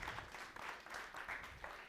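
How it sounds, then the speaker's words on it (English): Faint applause from an audience at a Southern African business summit in Johannesburg, a soft, somewhat distant patter of clapping that swells and eases over a couple of seconds. "Please give a round of applause."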